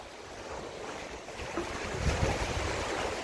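Sea waves surging inside a sea cave at Coloane, Macau, a continuous rushing wash of water that swells louder toward the end, with wind noise on the microphone and no voices.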